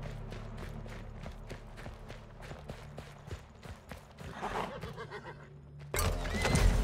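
A horse in the video game Weird West whinnies amid rhythmic hoof clip-clops, ending in a louder burst of game sound.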